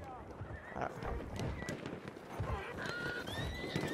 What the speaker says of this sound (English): Plus, there's a horse.